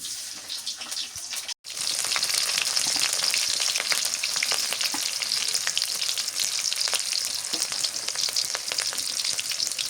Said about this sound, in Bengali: আর ঢেঁড়স ভাজি করি। পেঁয়াজ দিয়ে দিই,